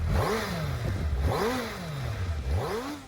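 A Suzuki Hayabusa motorcycle engine revs repeatedly, three rising-and-falling throttle blips in a steady rhythm, loud and close with a mechanical clatter underneath.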